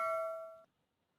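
A notification bell chime rings out with a bright, sustained tone that fades gradually, then cuts off abruptly, leaving near silence; fairly quiet and heard alone.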